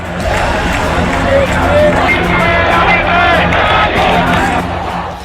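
A huge street protest in Bangladesh, with Hindus demanding justice, produces a loud, dense roar of crowd babble and shouting, sustained throughout with scattered sharper cries.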